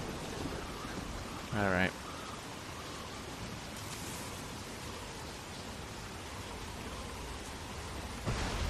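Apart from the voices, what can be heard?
stormy night rain and thunder, from a video game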